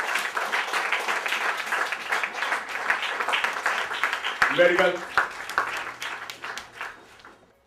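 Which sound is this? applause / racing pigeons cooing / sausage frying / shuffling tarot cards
applause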